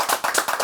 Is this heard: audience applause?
yes